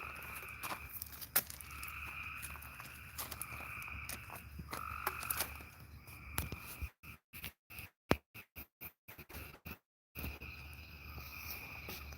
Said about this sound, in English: we'll listen to the frogs. We'll take a nature bath as they go